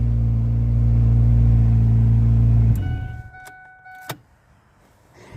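A car engine with an exhaust issue idles loudly and steadily after a battery change, then shuts off abruptly partway through, leaving near quiet broken only by a few faint clicks and a short knock.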